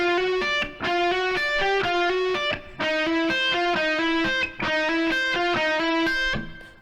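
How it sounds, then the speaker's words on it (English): Electric guitar playing a song's bridge riff, a run of hammered-on notes in repeating phrases with brief gaps, loud and close, with no one talking. "Now in the bridge section, there's this cool guitar part."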